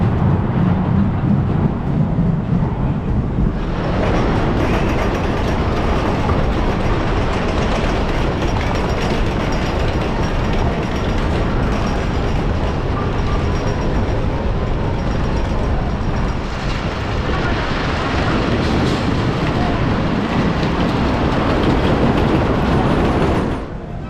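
The red train of the Grand National wooden roller coaster at Blackpool Pleasure Beach runs as a loud, continuous rumble and roar. It swells as the cars rattle along the track.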